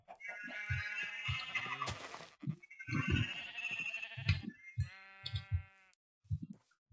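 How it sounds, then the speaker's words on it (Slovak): Sheep in the video game Minecraft bleat repeatedly in short wavering cries, loud and close, mixed with other farm animal calls and game footsteps, with brief quiet gaps near the end. "Ďalšia ovca."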